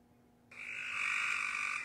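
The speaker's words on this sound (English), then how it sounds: "as we listen to the Cope's gray tree frog" A Cope's gray tree frog's loud, steady trill starts after a moment of quiet and carries on unbroken, close and shrill.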